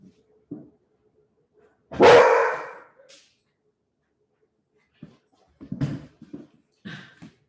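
A dog gives one loud, sharp bark, followed by a few quieter yips and short barks after a pause.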